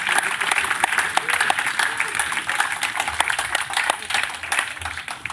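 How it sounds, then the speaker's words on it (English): An audience at an AI hackathon awards ceremony bursts into sustained applause, loud and continuous crowd clapping close by, with a voice briefly audible beneath it. "A big applause."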